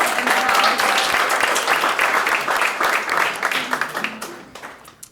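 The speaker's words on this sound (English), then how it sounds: "Can we get a round of applause for the graduates?" A crowd claps in a sustained round of applause for graduates at a ribbon-cutting ceremony, fading out toward the end.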